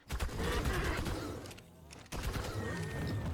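A gun firing in the game ARK Ascended, with loud rapid bursts of shots, a short gap, then more sustained fire.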